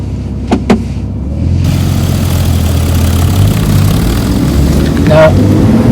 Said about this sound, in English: Now you can begin to hear the engine sounding noisy